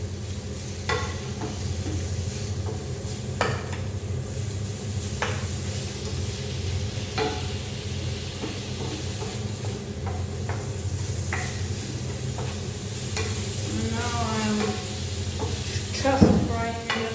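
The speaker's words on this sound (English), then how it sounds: "Just frying it a little bit before I put the tomato broth on it." Crumbled tofu frying in a pan with a steady low sizzle, broken by repeated scraping stirs of a utensil against the pan, close up, ending in a louder clatter.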